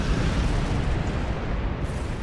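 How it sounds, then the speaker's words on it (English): Continuous phaser cannon fire in the space combat game Star Trek Online, a dense, heavy rumbling barrage of rapid blasts that stays loud and unbroken with no talk over it. "The phaser cannons are real."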